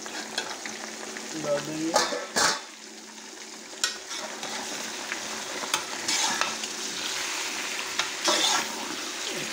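Chicken pota and kalaji (intestine and liver) sizzle steadily in a pan, village style, while a spatula scrapes and stirs at intervals; a few brief words are spoken early on.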